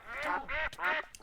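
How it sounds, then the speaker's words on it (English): Ducks in the Project Zulu mod for Minecraft quack in three close, loud nasal bursts, each a harmonic-rich call, with no talk over them. "As well as we have ducks."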